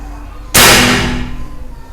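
A single sharp, loud air rifle shot (Predator Mini OD 38) cracks out close by, followed by a brief fading ring in an otherwise quiet space.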